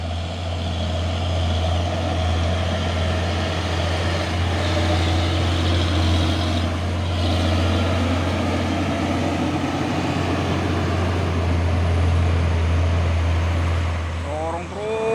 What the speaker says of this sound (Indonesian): Dan ini juga ada dua unit dam truk kuso melewati tanjakan di Pondok di pagi hari